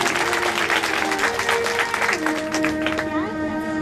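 An audience claps at a Hindu religious gathering for a Shiv Mahapuran recitation, a dense burst of applause that carries on steadily and tapers slightly, with a few tonal sounds rising near the end.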